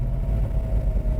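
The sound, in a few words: 1966 Chevrolet Chevelle SS engine and exhaust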